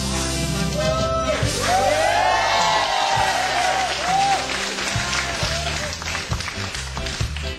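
Studio audience applause at a televised comedy competition show, steady and full throughout, with cheering voices and whoops mixed into the clapping.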